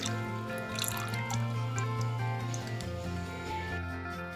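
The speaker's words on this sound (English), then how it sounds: "now I'm going to pour all my oils" Melted oils pour steadily from a container into a crock pot preheated on high for hot-process lye soap, a continuous wet trickle and drip over a low steady tonal hum.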